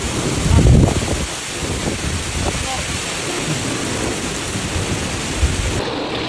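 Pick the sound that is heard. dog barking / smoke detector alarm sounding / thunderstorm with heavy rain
thunderstorm with heavy rain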